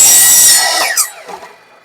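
A short burst of saw cutting through an anodized aluminum telescope rod, loud and close, fading quickly as the blade finishes the cut.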